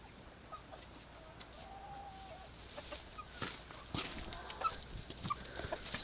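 Several chickens cluck and chirp intermittently at close range inside a coop, with scattered short calls over a quiet background.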